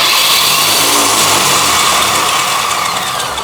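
A CG Titan generator powering a Makita marble saw motor runs steadily and loudly close by, a continuous engine drone with no talking.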